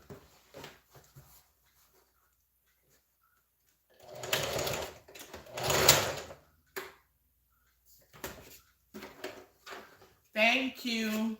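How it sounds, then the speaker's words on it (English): A sewing machine stitching an Ankara and denim bag in short bursts, each run lasting a second or two between pauses, with a person talking in between. "So I'll stitch at half an inch."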